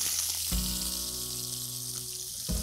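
Sliced onions sizzle and fry steadily in a pan, a loud continuous crackle with a low rumbling hum beneath, alone without talk.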